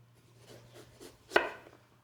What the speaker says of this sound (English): I'm just going to slice it